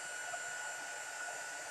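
Heat tool blowing steadily to melt embossing powder on paper flowers, a continuous close airy roar with a faint whine, alone without talk.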